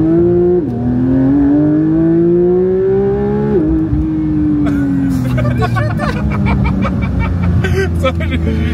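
A car engine revs and climbs steadily, drops and rises again, loud and close from inside the cabin, while people talk over it.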